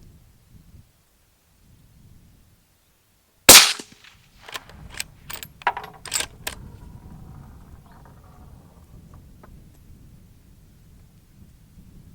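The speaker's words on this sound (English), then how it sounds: "this is another safe dry fire, is actually very nice in use" A sharp, close dry-fire click from the trigger of a Franchi Horizon Elite Varmint bolt-action rifle in .223 breaks a quiet room, followed by several softer mechanical clicks and handling noises.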